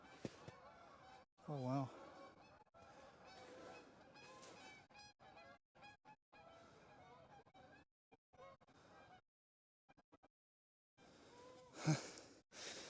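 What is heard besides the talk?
geese honking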